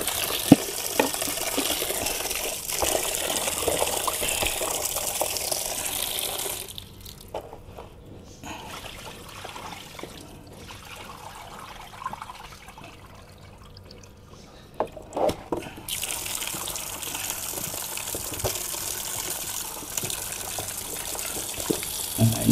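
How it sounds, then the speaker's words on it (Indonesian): Water splashing and gushing over a banana bunch as it is washed clean, a steady broad wash that drops away for several seconds midway before returning. "bersihkan dulu ini tandan pisang ini"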